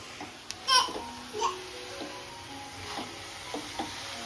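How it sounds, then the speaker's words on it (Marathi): Drumstick leaves are stir-fried in a home pan with a faint, low sizzle and occasional soft scraping stirs, while a voice babbles quietly in the background. "चला आता आपण भाजी परतू"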